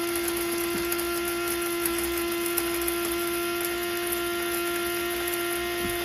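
An electric grinder powders coarse dehydrated spinach with a steady high-pitched whine that stays constant and close, with no voices.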